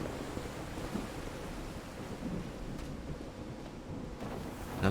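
Thunder in the Call of the Sea video game, a soft continuous low rumble with a rain-like wash, steady and distant throughout with no speech.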